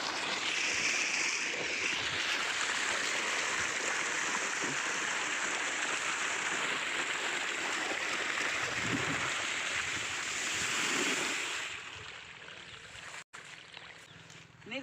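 Water gushes steadily from a pipe into a village tank, a constant broadband rush that holds for most of the stretch before thinning out near the end.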